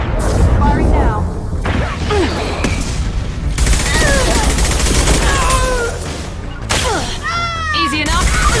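Dense, loud gunfire from the video game Mass Effect 2, rapid overlapping shots and impacts running almost nonstop through the clip amid a busy battle soundscape with chirping effects.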